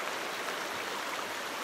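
A river in Melbourne flows with a steady, even rush of water, moderately close and unbroken, with no talking over it.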